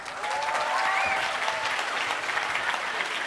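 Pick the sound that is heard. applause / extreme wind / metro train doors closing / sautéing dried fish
applause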